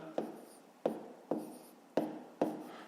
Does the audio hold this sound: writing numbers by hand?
yes